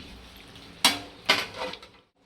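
A lid set down on a pan of mutton chaap frying over low heat, two sharp metallic clanks followed by a brief rattle, over a faint sizzle that stops abruptly.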